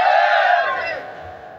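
A large crowd roars a chanted religious slogan in unison, one loud sustained shout that swells and then fades over a second and a half.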